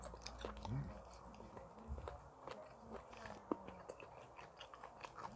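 Close, quiet crunching and biting of spicy grilled giant squid, with soft irregular crisp crackles through a low background and faint breathy sounds.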